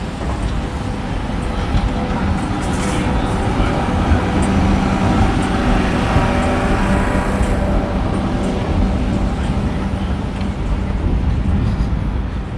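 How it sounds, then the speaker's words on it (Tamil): A tram rolls along an Oslo street amid traffic, a steady loud low rumble and rolling noise that holds throughout with no voices. "அதனால் ட்ராம் வந்து இப்போ அப்படியே வருது பாருங்க"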